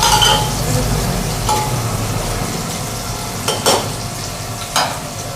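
A spoon stirs chopped onions frying in a pan for dal with potatoes, a steady loud sizzle with occasional scraping clinks against the pan, close up and without talk.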